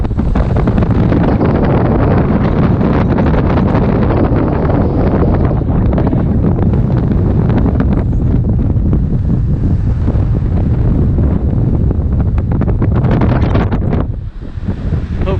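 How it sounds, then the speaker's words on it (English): Strong wind from an approaching squall roars over a Hallberg-Rassy 54 sailing yacht at sea, a loud continuous buffeting that overwhelms the microphone and dips briefly near the end. "we've got this huge squall line in front of us, black clouds"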